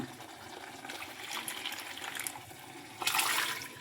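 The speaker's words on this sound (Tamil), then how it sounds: "தண்ணி ரொம்ப இருக்கே கொஞ்சம் வடிகட்டி பார்ப்போமா" Water drains and splashes as excess cooking liquid is poured off boiled white cowpeas in a home kitchen, a faint continuous trickle that swells into a louder gush near the end.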